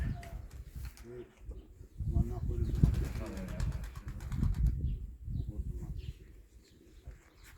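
An angry tumbler pigeon beats its wings in short, bursty flurries of flapping, close and uneven, with quieter gaps between bursts and people talking softly nearby.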